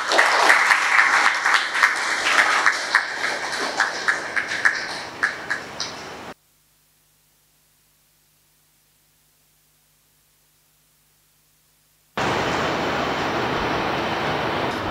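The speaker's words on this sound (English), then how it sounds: "Let us welcome him with a round of applause." A crowd at a seminary inaugural claps with a rapid, loud patter of many hands for about six seconds, then drops to silence before a steady hiss of noise returns near the end.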